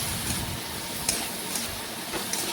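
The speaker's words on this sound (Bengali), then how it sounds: "ভালোভাবে নাড়াচাড়া করে মিশিয়ে নেব।" A spoon working through ridge gourd and potato in a pan dusted with turmeric, giving a soft, steady scraping and light sizzle with a few brief clicks of utensil against metal, close and fairly quiet, with no talking.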